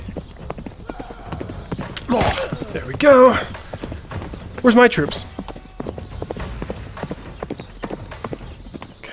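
Horse hooves gallop in the battle video game Tales of Glory, a fast rhythmic clip-clop running steadily underneath, with a couple of louder neighing or shouting bursts while a player talks over it.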